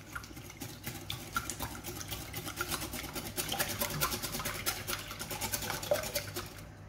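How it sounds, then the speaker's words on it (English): Eggs beaten with a whisk in a bowl for a Victoria sandwich cake, a quick rhythmic ticking and splashing that repeats steadily, fairly faint and close, with no talk. "I'm just going to show you beating the eggs with a whisk"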